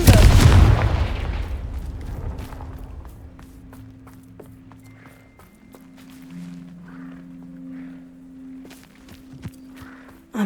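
A Confringo blasting curse goes off in Hogwarts Legacy with one loud, close burst at the very start. It fades into a low, quiet hum and soft ambient tones.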